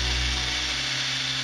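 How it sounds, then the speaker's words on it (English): A power drill bores a hole in a tank for fitting a window, a loud steady whirring drone that eases slightly in pitch as it cuts, heard alone. "I then drill out the second hole."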